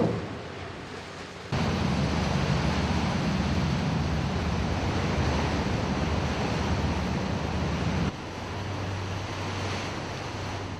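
Steady rushing of sea waves around Korean islands, heard from a hospital ship, with a broad wash of surf noise, continuous and fairly loud throughout, with a slight dip at the start and near the end.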